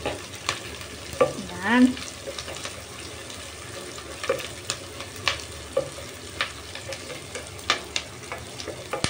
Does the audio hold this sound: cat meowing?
no